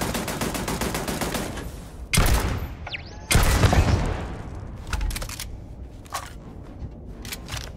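Bursts of turret gunfire in the video game Starfield, heavy rapid volleys crackling in several loud clusters with short pauses between, close and sharp.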